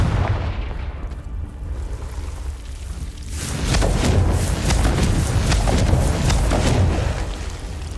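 A Confringo blasting curse explosion in Hogwarts Legacy, a loud crackling burst that swells midway and holds as a dense, rumbling roar of debris and fire, near and with no talking.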